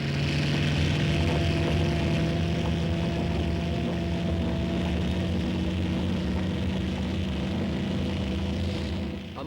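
A model vertical-takeoff aircraft lifting off, giving a loud, steady engine and propeller drone with tonal hum that holds constant, then eases slightly at the very end.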